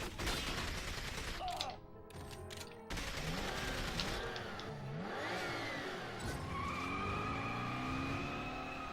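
A car in the video game 007 From Russia with Love, engine revving and tires screeching loudly with rising and falling pitch, mixed with gunfire bursts and crash noise throughout.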